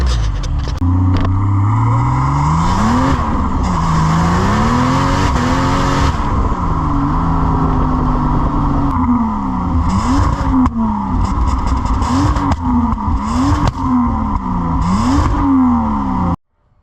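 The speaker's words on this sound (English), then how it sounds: "It's a race car, that one." V8 Supercar race car drifting, its engine revving and swooping up and down in pitch while tires squeal and skid continuously, loud and close for about sixteen seconds before cutting off abruptly.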